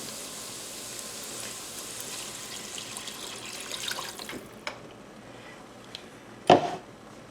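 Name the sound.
water pouring into a soup pot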